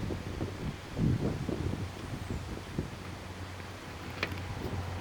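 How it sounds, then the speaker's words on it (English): Wind whips and buffets across the microphone outdoors at an air rifle range, a steady broadband rush with low rumbling gusts and a brief sharp tick near the end. "you can hear the wind whipping"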